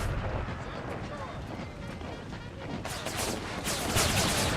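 Artillery cannon fire in Empire: Total War with a Brothers vs. Brothers mod, a dense rumble of distant booms and gunfire that swells louder near the end, with a voice talking over it.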